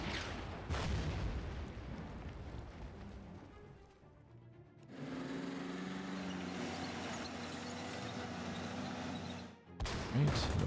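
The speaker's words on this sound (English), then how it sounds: "Artillery to pound them." Artillery fire pounds units in the Order of Battle: Blitzkrieg wargame, several heavy booms followed by a sustained rumbling drone and a final sharp impact, moderately loud with no talk.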